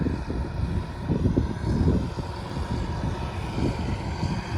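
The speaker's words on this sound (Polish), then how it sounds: "Ale mam w końcu okazję nagrać ciągnik, jaką pracuję." A working tractor engine drones steadily at a distance, a low rumbling hum that rises and falls slightly, with no voices.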